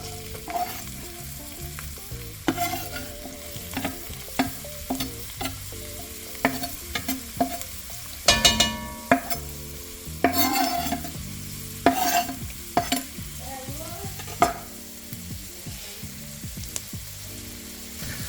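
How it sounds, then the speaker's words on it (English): Onions added to melted oil in a pan over medium-high heat, sizzling and frying close up while being stirred, with irregular scraping clatters over the steady crackle. "now that the oil is melted, I'm going to go ahead and add the onions to it"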